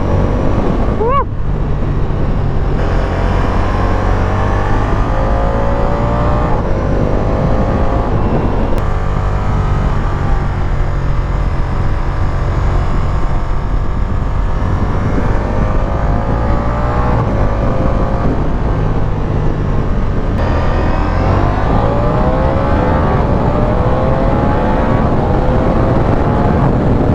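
A Ducati cruiser motorcycle engine pulls hard through rising and falling revs on an open-road test ride, loud and close, with gear changes and heavy wind buffeting over the microphone.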